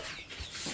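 Chickens crowded in a coop with children nearby give a brief, faint cluck amid rustling, heard close and low in level for under a second.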